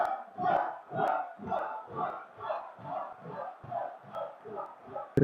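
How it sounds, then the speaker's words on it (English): A crowd at an army training battalion's inter-company boxing evening chants in a steady rhythmic pulse, about ten loud shouted beats rising and falling evenly, close and energetic. "The crowd once again showing their appreciation for the bow."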